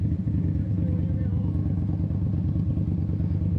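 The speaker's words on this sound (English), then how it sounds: "if you're by somebody's blind spot, but you're next to them, they'll hear your bike too" A motorcycle fitted with aftermarket mufflers rides through downtown streets, its engine a steady, loud, low rumble that continues without a break throughout.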